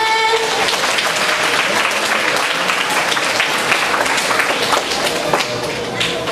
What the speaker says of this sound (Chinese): 来，小朋友掌声